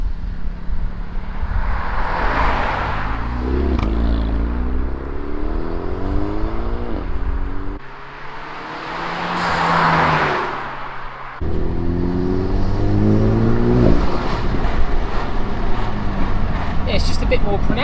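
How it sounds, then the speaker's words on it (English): A Renault Megane RS Mk4 engine with a Forge Motorsport smart valve spacer revs and pulls through gears with rising, whooshing, fluttering intake noise, loud and close, dipping briefly before surging again. "I'm getting a little bit more induction noise. And it's getting a bit more of a flutter."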